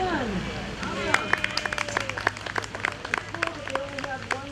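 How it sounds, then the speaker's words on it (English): Scattered clapping from an outdoor audience at an Irish trio's show, sparse individual claps over chatter and voices, fairly quiet and thin rather than a full ovation. "round of applause for the band"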